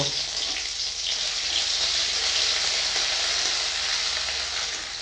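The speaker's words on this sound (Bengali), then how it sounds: "তেল গরম হয়ে গেছে দুটো তেজপাতা দিয়ে দিব রসুন বাটা দিয়ে দিব" Bay leaves and garlic paste hit hot oil in a kadai and sizzle in a loud, steady, close hiss that holds for the whole stretch, with no voices.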